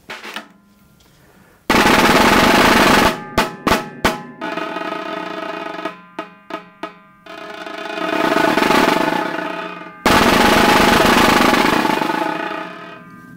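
Snare drum being tuned with a drum key, played in bursts: a sustained buzzing roll, a few sharp separate hits, then more rolls swelling and fading, close and loud.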